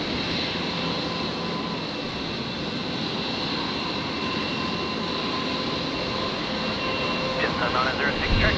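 A pink Alliance Fokker 70 airliner taxis back out at Brisbane Airport, its engines a steady broad roar with a whining tone, loud and continuous, with a voice talking over it.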